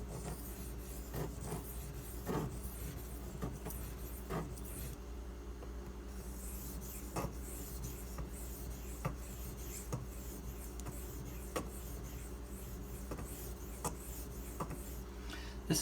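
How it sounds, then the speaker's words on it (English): Steady rasping scrape of a lockback knife blade drawn across a 1500 grit aluminum oxide sharpening stone, repeated strokes with faint periodic clicks, close and quiet, no talking. "I'm going to sharpen this a little bit further with the 1500 grit Haidu aluminum oxide stone"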